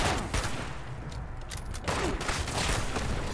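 Gunfire in Fallout 76, a fairly quiet sustained burst of rapid shots with short pauses, heard through steady game ambience.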